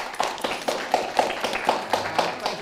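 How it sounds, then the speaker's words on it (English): A few pairs of hands clap in a small audience for two guests, about ten light, fairly even claps close by, brief and modest rather than a full ovation. "Give them a round of applause."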